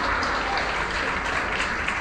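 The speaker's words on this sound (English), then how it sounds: "An eruption of applause here at SpaceX Mission Control." Applause breaks out at SpaceX Mission Control after a booster lands from its first spaceflight, during the launch of an Emirati astronaut to the International Space Station. It is a steady, loud, dense wash of many hands clapping with no pause.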